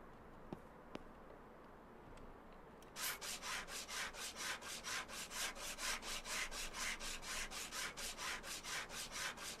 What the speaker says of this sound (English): Sand the putty.